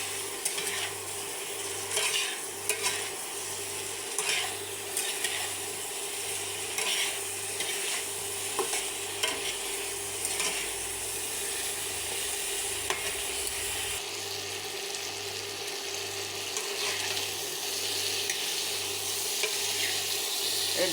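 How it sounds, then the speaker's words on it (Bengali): Potatoes, Malabar spinach stems and red chili powder frying in a pan, a steady sizzle with repeated scraping and stirring strokes in a regular rhythm throughout, close and moderately loud with no talking. "এই দেখুন লাল লঙ্কা গুঁড়ো দিয়ে দিলাম। এটাকে ভেজে নেব,"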